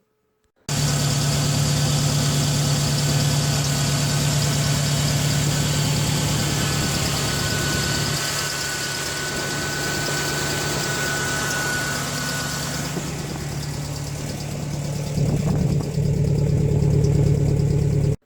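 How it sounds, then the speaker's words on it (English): A Chevy Blazer's 350 V8 engine with a 4-barrel carburetor idles steadily with a deep, rumbling throb and faint knocking, close and loud, running alone without voices. "The engine's running."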